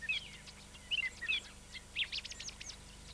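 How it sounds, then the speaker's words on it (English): A song thrush sings in the understory of a radiata pine plantation in New Zealand, delivering bright, repeated whistled phrases in short bursts, fairly faint and alone against a quiet hum. "the song thrush survived and finds the undercover of the radiata plantations excellent for nesting"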